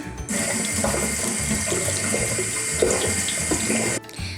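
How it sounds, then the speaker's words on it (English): Tap water runs steadily into a sink to rinse quinoa, a constant close splashing rush lasting about four seconds before it cuts off. "it's just always a good idea to give the quinoa a really good rinse"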